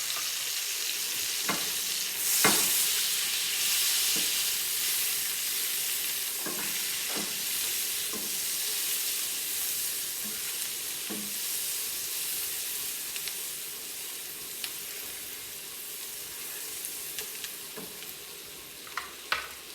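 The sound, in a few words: garlic frying and being stirred in pan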